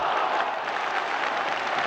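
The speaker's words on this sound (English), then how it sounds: "No wonder the crowd applauded." Stadium crowd at a UEFA Cup Final football match between Wolves and Spurs, applauding a shot with steady, dense clapping from far away, loud and continuous with no other sound.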